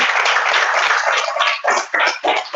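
An audience at a yoga camp event bursts into dense, loud applause that holds steady, then breaks into several surging waves of clapping toward the end, with no talking over it.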